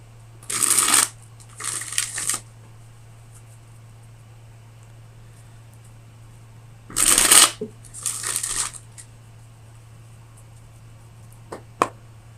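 Tarot cards shuffled by hand in a quiet room during a reading, with two distinct bursts of riffling and bridging about six seconds apart, close and crisp, followed by a single soft card tap near the end.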